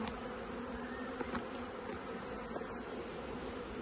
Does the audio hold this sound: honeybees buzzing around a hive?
yes